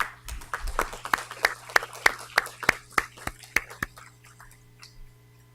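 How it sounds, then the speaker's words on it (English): Audience applause for an Arbor Day award winner at a City of Commerce event, about a dozen sharp, evenly spaced claps ringing out close by over a steady low hum, thinning and fading after roughly four seconds. "we want to give her a round of applause"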